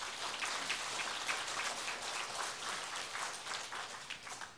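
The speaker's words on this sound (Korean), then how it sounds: "우리 아버지를 위해서 박수 한번 보내십시다." A Sunday church congregation applauds, a thick, even wash of many hands clapping at once that holds steady throughout, sounding somewhat like heavy rain.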